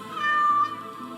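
A cat meows in the video game Dragon Age: Origins, one clear, fairly loud, drawn-out tonal meow that fades at the end, with no talking.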